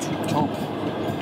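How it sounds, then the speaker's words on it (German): Inside a moving Trans-Siberian Railway carriage, a steady low rumble of wheels and car body fills the space, with faint voices murmuring beneath it. "Es fühlt sich echt an, als würde man hier im Zug wohnen."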